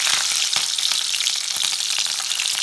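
Slit green chillies frying in hot oil, a loud, bright, crackling sizzle with popping bursts, steady and close throughout with no voices.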